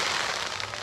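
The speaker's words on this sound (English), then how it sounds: "Fireworks." Fireworks at Magic Kingdom crackle and pop in a steady, dense burst, sounding moderately loud and somewhat distant, with no talking over them.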